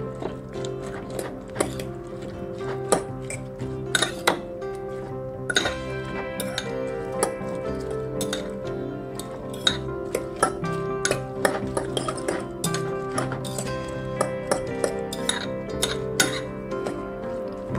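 Two eggs whisked with chopped capsicum in a bowl for a bread omelet, a fork or spoon clinking steadily against the bowl's side in quick, uneven strokes, close and fairly loud with no talking.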